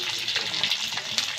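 Panch phoron, garlic and bay leaf fry in hot oil with a dense, steady crackling sizzle, close and continuous with small pops throughout.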